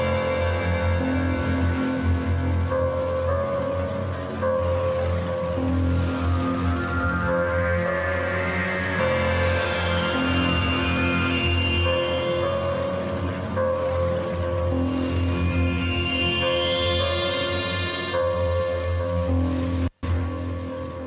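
Layered cinematic lead instruments from Heavyocity's Mosaic Leads play a dense, continuous intro passage with sustained tones, rising sweeping textures and a steady pulsing rhythm, loud throughout until a brief cut near the end.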